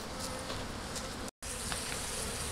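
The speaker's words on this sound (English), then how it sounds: "this is unbelievable, that the amount of bees that's coming up here already" Honey bees buzzing around an open hive in early spring, a steady close drone with individual bees passing near, alone and without talk.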